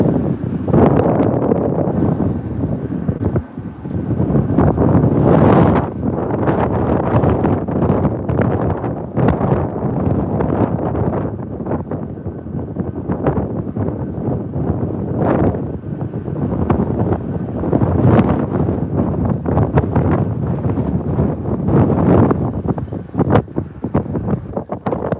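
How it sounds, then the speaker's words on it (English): Strong Storm Eowyn wind at Manchester Airport roars continuously against the microphone, a loud, buffeting rumble with repeated harder gusts and no pauses. "The wind is absolutely awful at times"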